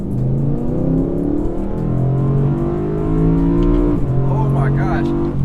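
A high-revving engine in a new BMW M3 or Porsche Macan S wails loudly and steadily, climbing in pitch with a brief dip near the end, while people talk over it.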